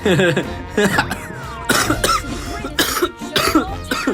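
Several harsh coughs from a two-year-old lingering cough come in quick bursts, close to the microphone, separated by short pauses and breaths.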